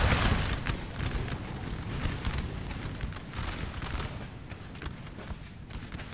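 Musket volleys in Napoleon: Total War ring out as dense, overlapping gunfire, a steady crackling barrage of shots at moderate distance with no speech over it.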